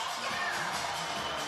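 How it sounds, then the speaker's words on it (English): Poland fans roar at a FIBA 3x3 basketball World Cup game, a dense, continuous crowd din of cheering and whoops that fills the whole moment. "I don't think the crowd helps. I can't hear myself."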